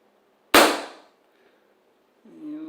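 A single sharp crack from a Smith & Wesson 79G .177 air pistol after a reseal, fired into a microfiber rag, close and loud, fading quickly before a short voice begins at the end.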